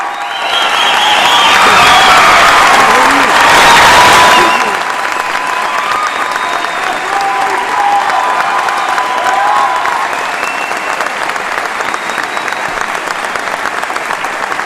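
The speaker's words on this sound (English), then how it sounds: "one more round of applause for all our military inductees" An audience applauds military academy inductees at a senior recognition night, the clapping loud and swelling with some cheering early on, then settling into steady, slightly softer applause.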